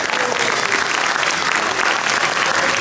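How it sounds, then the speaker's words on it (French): Loud, sustained audience applause fills a hall during a prize draw event, a dense continuous wash of clapping hands with no break across the few seconds. "Sous vos applaudissements également."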